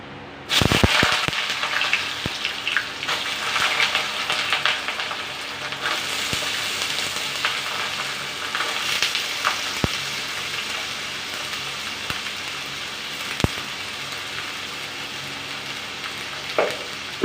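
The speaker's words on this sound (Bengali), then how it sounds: "আলুটা দিয়ে দিই, আলুটা একটু ভালো করে ভেজে নিই" Potatoes drop into hot oil in a pan for aloo posto and set off a loud crackling sizzle that rushes up at the start. It then settles into a steady, close frying hiss with occasional sharp pops and clinks, and no one talks.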